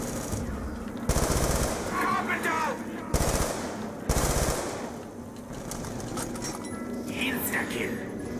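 Bursts of video game gunfire from a gun crack out in several sharp volleys, loud and close, separated by quieter stretches with faint background game noise.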